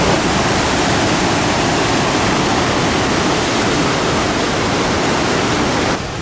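A waterfall at Si Phan Don in southern Laos roars as a dense, unbroken wash of rushing water, loud and close, holding steady for several seconds before easing slightly at the end.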